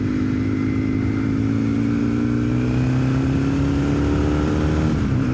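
A Yamaha XTZ750 Super Tenere motorcycle is ridden, its engine droning loud and close with the pitch rising slowly as it pulls, and no talking over it.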